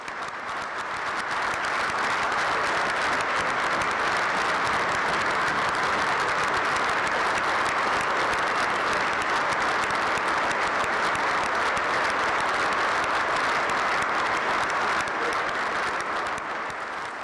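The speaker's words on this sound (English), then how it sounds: "let's give them an applause." Sustained applause from a large audience at a state government address, steady and dense throughout, loud and continuous with no speech over it.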